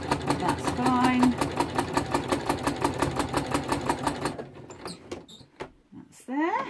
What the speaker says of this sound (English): You don't want to go too fast over the pins, because you could just absolutely wreck your needle.